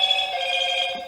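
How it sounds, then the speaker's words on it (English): A phone rings with a steady, bright electronic tone that holds for about a second, loud and close. "That's my phone."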